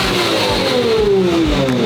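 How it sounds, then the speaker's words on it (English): Ferrari 550XX Evo V12 with straight-piped exhaust revs loudly and up close, a rising, raspy howl climbing in pitch over a couple of seconds without any talk. "you're gonna hear the sweet sound of an Italian V12"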